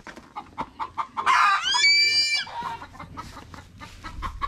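Backyard chickens with chicks cluck in a quick, close, rhythmic series, broken midway by a loud, drawn-out crow, before the short clucks pick up again.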